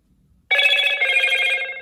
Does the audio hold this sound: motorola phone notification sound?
yes